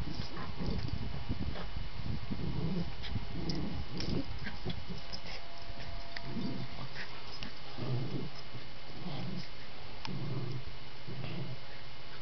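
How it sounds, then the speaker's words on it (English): Puppies play-fighting, with repeated close growls and snarly grumbles in an uneven rhythm over a constant background hiss. "Those are very crazy dogs."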